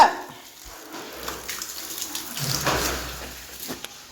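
Water sprays from a hose onto a house in a steady hiss, rising and falling slightly, close by with no talking.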